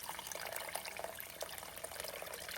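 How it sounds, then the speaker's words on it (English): Water pours into a pan of bolognese sauce, a steady splashing trickle, faint and close, heard alone. "then we add water."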